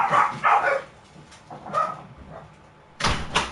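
A pet dog named Brody barking indoors, several loud close barks in quick bursts with gaps between, ending in a sharp final pair of yelps.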